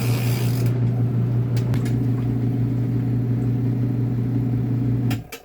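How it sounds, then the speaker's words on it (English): A washing machine inside an RV runs a rinse cycle, a loud steady motor hum with a strong low drone and faint mechanical clicks, stopping abruptly near the end. "then we will run it through a 15-minute rinse cycle"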